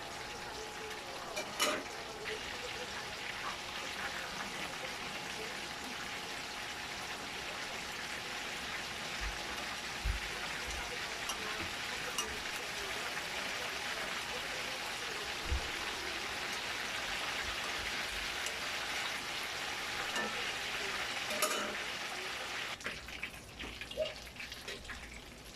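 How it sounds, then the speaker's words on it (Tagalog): Chicken sizzling steadily in a frying pan, a dense continuous crackle like light rain with occasional louder pops, close by and fairly quiet, with faint bits of talk near the end. "Paprituin na lang natin siya ng pagganito."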